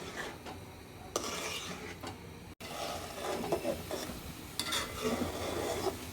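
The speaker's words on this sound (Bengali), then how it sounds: "এখন আমি পানি দিয়ে একটু থকবক করে কষে নেব, তারপরে মাছগুলো আমি এখানে দিয়ে দেবো।" Boiled potatoes are stir-fried with a splash of water in a pan for a tengra fish curry. A spatula scrapes and stirs with intermittent strokes over a soft, steady sizzle, and no one speaks.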